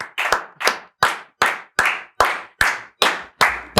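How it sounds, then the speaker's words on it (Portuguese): A studio crew claps for a podcast guest, giving about nine sharp, evenly spaced claps close to the mic with no talking. "Aplausos, produção. Aplausos."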